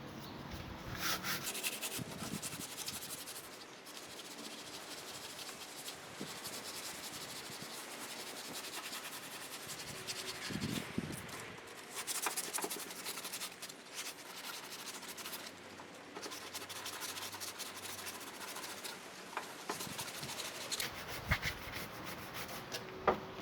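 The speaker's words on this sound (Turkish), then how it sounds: "Önce kalın zımparayla kabasını alıyorum." Steady, continuous rasping of coarse 80-grit sandpaper rubbed back and forth on a painted caravan surface, fairly loud and close, with brief pauses in the strokes.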